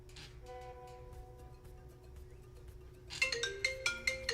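A phone ringtone sounds in a radio studio, a steady electronic tone joined near the end by a brighter, louder repeating ring pattern, with no talk over it.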